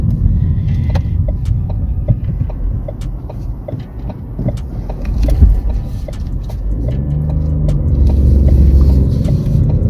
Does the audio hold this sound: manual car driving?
yes